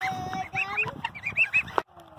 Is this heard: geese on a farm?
yes